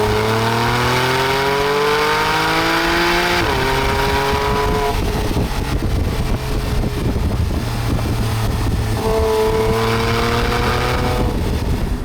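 Porsche 997 911 GTS with its exhaust button on, a loud, steady engine and exhaust note that rises and falls through revs over about twelve seconds, with wind noise and no talking.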